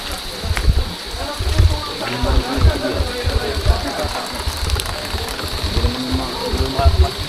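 Heavy rain pours down steadily, a dense hiss with a low rumble beneath it, while people talk over it in Filipino.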